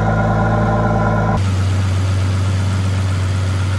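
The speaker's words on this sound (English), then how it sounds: "The car obviously starts right up." A salvage-auction supercar with a cracked windshield starts and settles into a steady, loud idle. A brief cranking burst gives way to a constant low engine drone close by, with no talking.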